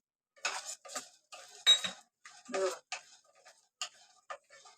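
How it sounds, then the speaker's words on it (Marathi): Melon seeds tipped into a pan of ingredients being dry roasted for methi ladoo, giving light scattered clicks and scraping taps of utensil on metal, close but quiet, in short irregular bursts. "हे भाजत आले आहेत आणि त्यात आता मगज बी टाकते"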